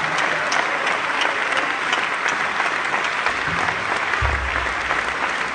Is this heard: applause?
yes